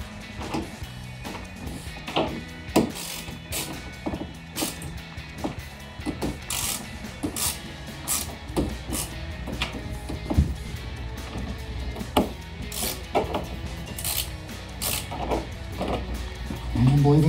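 Screws being tightened on gloss black plastic rear window louvers of a 2006-2010 Dodge Charger: repeated close ratcheting clicks and faint plastic creaks in an irregular rhythm, with some background hum.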